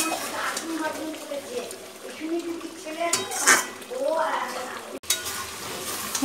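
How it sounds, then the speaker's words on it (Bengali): Chicken pieces being stir-fried for kosha in a pot in a home kitchen on a rainy day, with a spatula scraping and clinking against the pot and a soft sizzle underneath, while someone talks over the cooking. "মাংসটাকে আর একটু ভালো করে কষিয়ে নিই"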